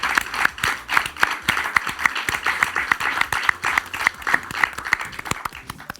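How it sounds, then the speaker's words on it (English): A stage-show audience applauds the winners of a face-painting competition final, with dense, steady clapping and occasional sharper claps running continuously and loudly, plus faint cheering mixed in. "let's have a round of applause for Stella and Mia"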